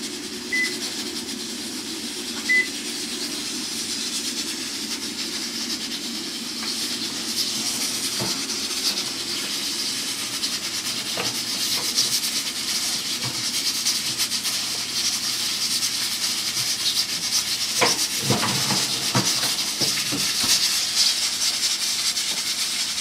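A pressure cooker cooking fish lets out a steady, loud hiss of steam that runs the whole time, with a few sharper clicks and rattles near the end.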